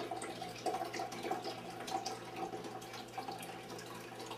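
Water is poured over ground coffee in a French press for cold brew, a steady, soft trickling and splashing stream that runs continuously and fairly quietly throughout.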